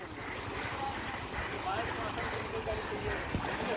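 A motorcycle pushes through knee-deep water on a ride from Nubra Valley toward Pangong Lake in Ladakh. A steady, loud rushing wash mixes with wind buffeting the microphone.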